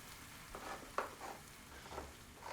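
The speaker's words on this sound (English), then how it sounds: "So far that's olive oil, onions, and garlic, and at this point you really only need to stir this long enough until you can really smell the garlic" Onions and garlic sizzle quietly in olive oil while being stirred, a soft steady frying hiss broken by a few scraping stir strokes.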